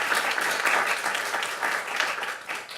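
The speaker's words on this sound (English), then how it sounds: "So a round of applause for them as well." At a living kidney donor event, an audience claps in a brief, steady burst of applause heard close and fairly full.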